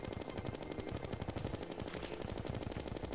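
Rapid, continuous weapon fire rattles throughout a Terraria boss fight against Duke Fishron in Master Mode, a dense stream of shots with no pauses.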